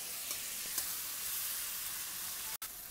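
Paneer sizzling as it is stirred into chilli gravy in a hot pan, a steady close hiss of frying with faint scraping, no voices.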